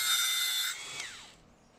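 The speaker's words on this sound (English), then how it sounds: "So I just have to grind that part." A high, steady grinding whine on a metal RC two-speed transmission part drops in pitch and fades as the tool winds down, with no voices.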